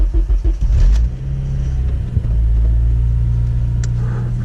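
A car with its check engine light on cranks for about a second with rapid starter chugs, then catches and settles into a loud, steady low idle rumble close by.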